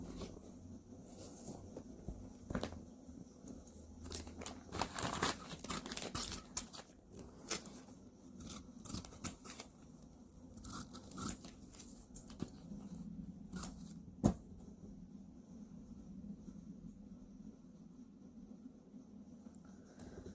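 Scissors snipping out small paper labels close by, soft intermittent cuts and rustling paper that is busier early on and fades to a quiet hush later.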